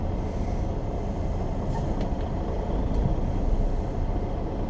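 Train hauling flatcars loaded with lengths of rail still fastened to their railroad ties: a steady, dense low rumble and rolling clatter, close and continuous throughout, with no voices.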